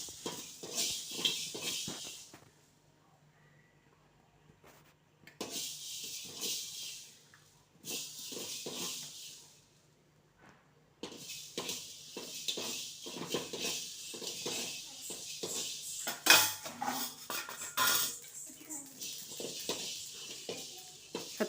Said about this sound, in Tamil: சத்தம் கேட்குதா? பொரியிற சத்தம்.